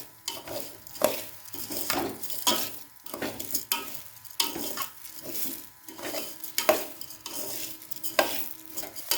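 Vegetables stir-fried in a pan for spice-free vegetarian khichuri: steady sizzling broken by repeated scraping stirs and occasional utensil clinks against the pot, close and continuous.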